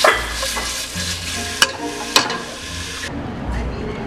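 Chicken frying in a pan, heard as a steady, close sizzle with stirring scrapes and two sharp clinks of utensil against the pan, and a faint voice in the background.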